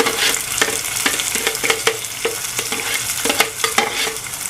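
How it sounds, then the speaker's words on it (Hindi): Cumin seeds frying in hot oil with a steady sizzle while a spoon scrapes and stirs in ground masala, giving repeated clinking strokes over the crackle, for a brain fry (maghaz) dish. "जीरा पकने लगा है, अब इसमें ये मसाला डाल देंगे।"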